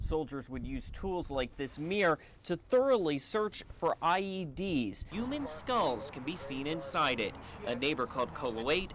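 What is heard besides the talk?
No distinct noise like a dog, phone or traffic.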